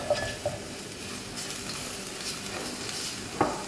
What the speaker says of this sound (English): After a few more minutes of frying, you can see like the spice mixture is now forming like a ball